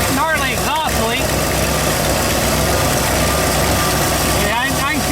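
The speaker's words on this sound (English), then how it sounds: "You can hear that gnarly exhaust leak." Pontiac Bonneville engine idling with a cracked exhaust leaking, a rough, loud, continuous rumble with ticking pulses, as a person talks over it in a few short bursts.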